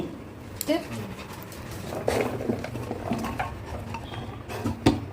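A pet labrador named Coco pants and whimpers in a kitchen, with nearby clinks of dishes and cutlery and a person talking over it.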